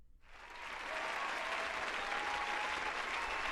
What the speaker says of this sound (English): Tell me if y'all hear these applause going on right now.